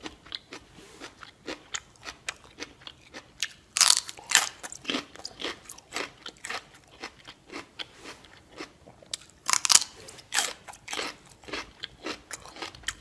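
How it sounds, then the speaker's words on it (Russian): Celery is crunched and chewed close up, with two loud snapping bites followed by a steady run of wet, crackly chewing crunches. "Я ем сельдерей."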